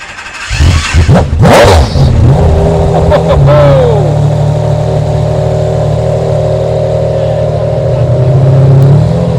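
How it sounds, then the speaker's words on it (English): A McLaren F1 GTR supercar on a central London road gives a loud burst of engine revving up close, then settles into a steady, droning engine rumble for the rest of the clip. "McLaren F1 GTR on the road in central London"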